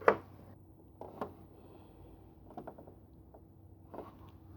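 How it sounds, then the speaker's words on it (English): A sewing machine's needle threader mechanism operating nearby during twin-needle sewing, a few faint mechanical clicks and ticks spaced apart over a quiet background, no talking. "The needle threader worked fine."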